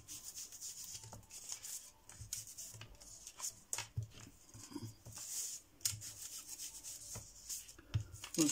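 Soft, close scratchy rubbing as card edges are worked over to give them an aged look, coming in uneven short strokes that are quiet and dry, with no speech.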